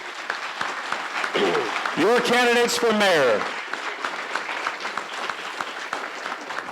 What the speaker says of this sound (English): please, everybody, one more final round of applause for both candidates.